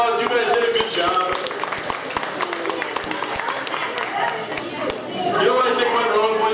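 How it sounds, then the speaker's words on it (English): Children in an audience at a magic show give a round of applause, a steady patter of many small hands clapping together under lively chatter and voices throughout. "All right, give yourselves a round of applause."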